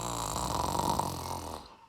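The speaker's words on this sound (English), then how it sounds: "A loud snore came from behind the branches." A single loud, drawn-out snore rumbles steadily for nearly two seconds, heard up close and fading at the end; it belongs to a leopard asleep behind branches in a spoken children's story.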